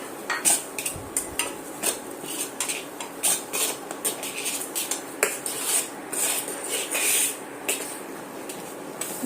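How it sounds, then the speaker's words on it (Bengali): Metal spoon repeatedly scraping and clinking against a pan while stirring semolina into milk, steady irregular strokes close up with no voices. "এবার আমি এইভাবে আস্তে আস্তে সুজিগুলো এই দুধের মধ্যে দিয়ে দেব দিয়ে এবার অনবরত নাড়তে হবে"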